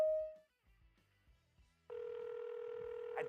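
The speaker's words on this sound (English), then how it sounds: "I'm addicted to the phone call ring." A phone call ring on a live post-game football call-in show starts abruptly partway through and holds as a steady electronic ringing tone, with brief talk and noise beforehand.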